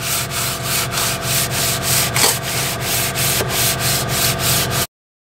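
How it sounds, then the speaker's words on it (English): Hand sanding of a Duramax diesel engine block deck with 180-grit paper on a block sander, steady rhythmic back-and-forth scraping strokes, close and fairly loud, with no talking. "you can take your 180 with your block sander and just do the same thing before horizontally, no vertical"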